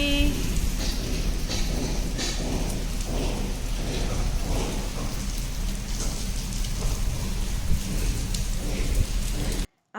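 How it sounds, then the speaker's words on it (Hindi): Heavy rain pours steadily in a dense, hissing wash with occasional low rumbles, continuous until it cuts off abruptly at the end. "बारिश आ गई."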